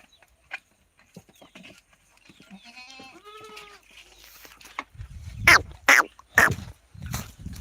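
Several loud goat bleats arrive in quick succession near the end, after quieter rustling and a faint animal call earlier.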